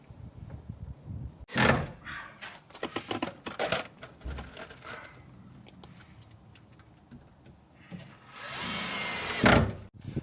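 A power drill drives screws into a gate outdoors, with short bursts of whirring separated by pauses, clicks and handling noises, and a longer, louder run near the end.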